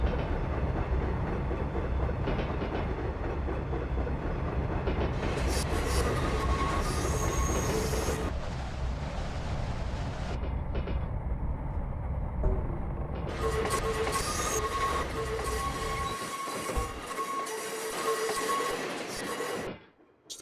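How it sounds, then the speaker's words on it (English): Train wheels clicking and rumbling over rail joints on a San Francisco to Sacramento interurban run in Train Simulator Classic, a steady close rolling clatter with squeal-like tones and no motor sound, stopping abruptly near the end. "We've got the clicky noises back."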